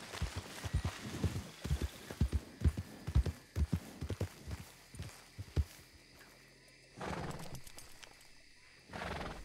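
A horse in a video game stands close by, with a run of irregular hoof clip-clops and stamping that thins out, followed by two bursts of breathy snorting or blowing near the end.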